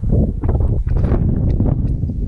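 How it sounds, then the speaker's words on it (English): Gusty wind in the Nene Valley buffets the microphone in a continuous low rumble, rough and loud throughout, with no voices. "Quite windy today"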